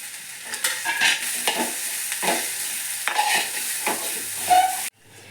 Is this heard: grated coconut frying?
yes